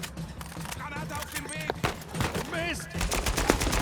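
Enemy shotgun blasts in the video game Uncharted, sharp repeated shots mixed with other gunfire, while a voice talks over the action.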